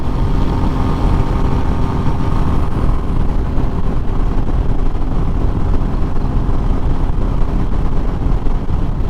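Steady, loud mid-range drone of a 2021 Royal Enfield Meteor 350 motorcycle engine holding an even cruising speed, with constant rumble and wind noise and no change in pitch throughout.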